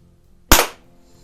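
A single sharp shot from a Gamo Compact .177 single-stroke pneumatic air pistol, a crisp close crack with a brief decay and no other sound around it.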